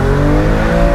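BMW M2 Competition engine accelerating hard, a loud, close, steady rising roar held for a brief moment with no voices.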